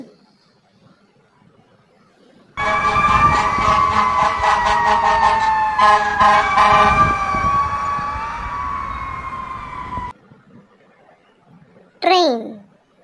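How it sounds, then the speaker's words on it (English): A fire engine siren blares loudly over a rumbling truck engine for several seconds before cutting off, followed by a brief spoken voice. "fire engine."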